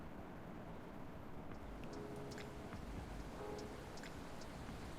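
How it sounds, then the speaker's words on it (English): Steady rain falls in the Coffee Talk video game, a soft continuous hiss with scattered drip-like ticks, quiet and even throughout with no voices. "And it's still raining."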